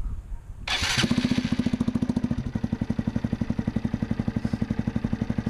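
Honda Grom motorcycle with an aftermarket exhaust cranks over, fires up with a brief rev burst, then settles into a steady, close, rhythmic putting idle.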